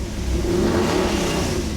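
A Chevy 454 big-block V8 runs steadily on an engine dyno during its break-in heat cycle, a loud, deep, continuous rumble with a slight rise in revs and no talking over it.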